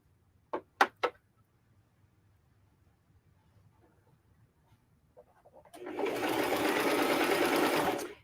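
Sewing machine running a zigzag stitch along the side of a sweatshirt. A few sharp clicks and taps come first, then a quiet pause, then the machine hums steadily for a couple of seconds.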